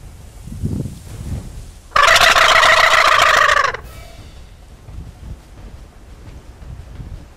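A wild turkey gobbles once loudly and close in an open Nebraska wheat field, a rapid warbling burst of about two seconds over steady wind noise.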